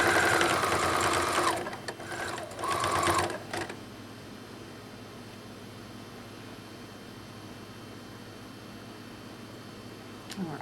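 A sewing machine stitches ruffled socks in two quick loud whirring bursts over the first few seconds, then falls silent, leaving only faint room hiss.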